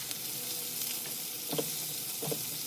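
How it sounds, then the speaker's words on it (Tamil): Coriander leaves sauté in a pan for Afghani seekh kebab gravy, with a soft, steady sizzle and two brief scraping stirs near the end, and no voices. "மல்லித்தலையும் போட்டு இது கூடயே நம்ம வதக்கி வச்சுக்கலாம்."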